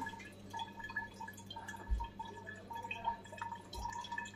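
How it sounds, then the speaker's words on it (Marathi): Water being strained, a faint, sparse patter of drips and small splashes at an irregular rhythm in a quiet kitchen. "त्यामुळे हे गाळूनच घ्या पाणी"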